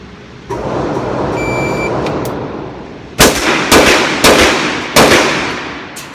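Four sharp, loud Sig Sauer .357 pistol shots fired at a target on a range, evenly spaced and close, each with a brief echoing tail, following a steady background rumble.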